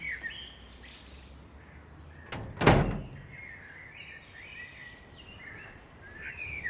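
A door opens with one loud thunking clatter near the middle, while birds chirp faintly in the background.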